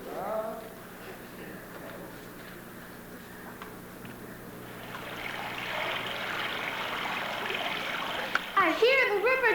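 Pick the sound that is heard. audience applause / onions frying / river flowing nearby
river flowing nearby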